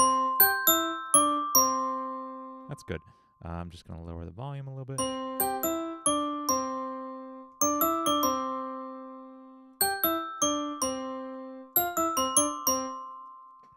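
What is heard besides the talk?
clean synthesized bell sound in music production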